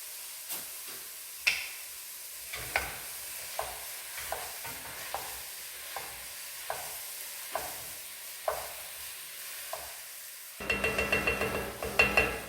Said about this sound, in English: Just plop my meat in there and let that start cooking.